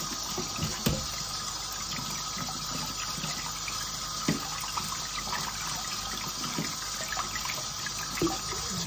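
Produce is washed under a running kitchen tap, with a steady, close stream of water and occasional light clunks and splashes as items are handled.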